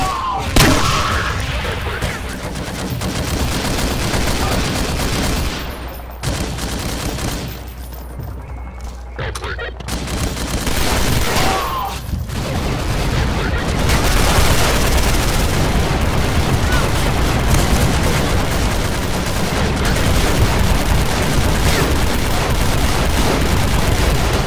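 Grenade launcher blasts and heavy booms fill the firefight in SMOD Outbreak, a dense, continuous barrage of explosions and gunfire, with brief lulls early before the roar builds and holds loud throughout.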